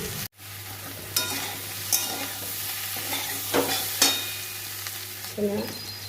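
Chili powder and garlic fry in a pan under a steady close sizzle, with a few distinct stirring scrapes and clatters spaced through it.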